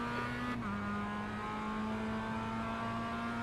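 Race car engine in the iRacing sim at the Nürburgring, a steady sustained drone with a brief pitch drop like a gear change early on, loud and continuous with no talking.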